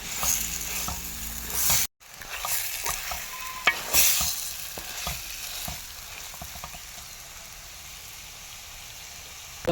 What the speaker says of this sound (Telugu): చక్కగా మసాలాలలో చికెన్ అనేది వేపుకోవాలి